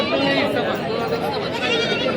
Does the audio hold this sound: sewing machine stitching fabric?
no